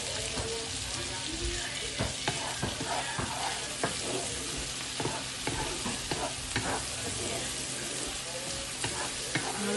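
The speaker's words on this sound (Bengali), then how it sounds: "মশলাটা ভালো করে একটু কষিয়ে নিলাম, আর একটু রসুন কুচি দিয়ে দিলাম।" Spice masala with chopped garlic frying in a pan, a continuous sizzle with the repeated scrape and clatter of stirring close by.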